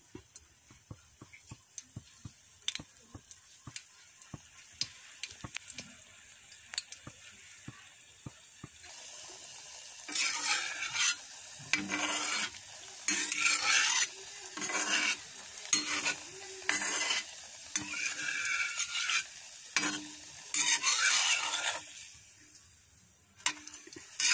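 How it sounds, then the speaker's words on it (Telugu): Food fries in a pan over a low flame, starting with faint, sparse ticking before louder bursts of sizzling and stirring scrapes come in irregular waves, close up with no talking. "స్టవ్ని లో ఫ్లేమ్లో ఉంచుకొని మాత్రమే ఫ్రై చేసుకోవాలి"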